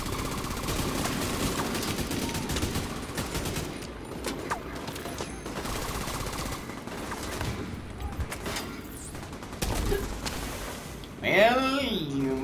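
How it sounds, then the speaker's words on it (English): Automatic gunfire bursts in The Division 2, dense and continuous through the stretch, with explosive cracks and game effects layered over it and a rising synthetic sweep near the end. "Might be a machine gun"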